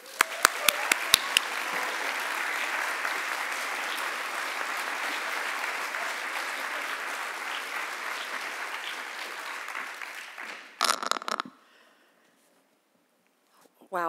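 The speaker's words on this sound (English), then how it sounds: "Please join me in one more round of applause for our honorees today." Faculty assembly audience applauding honorees, a few sharp claps opening into steady, dense applause for about ten seconds that stops abruptly, followed by a few scattered claps and near silence.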